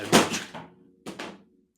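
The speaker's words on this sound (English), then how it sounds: "I think one of our Hoover attachments just fell off a shelf" A plastic vacuum cleaner attachment falls off a shelf in a home, making two close hollow thuds, the first louder with a short clatter, then a second knock about a second later.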